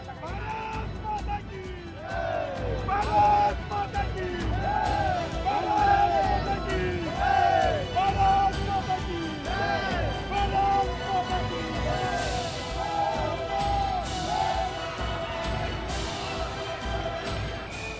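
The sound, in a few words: crowd commotion in front of lined-up cameras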